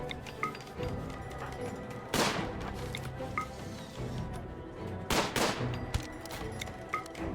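Gunfire in the RimWorld video game during a town siege in a frosty setting, with two loud broadband bursts about three seconds apart over a constant low game rumble and scattered small clicks.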